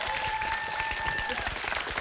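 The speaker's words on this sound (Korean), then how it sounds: "박수 한번 쳐주세요." An audience claps at an education talk by Korean pro wrestler Kim Nam-hoon, a dense, continuous patter of many hands filling the room, with a faint tone lingering in the background.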